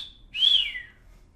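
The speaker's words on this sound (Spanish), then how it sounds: "en México tenemos este tipo de chiflidos que significan diferentes cosas" A single wordless Mexican street whistle used as a compliment: a short high tone followed by a louder rising-and-falling sweep, clear and close with no talk.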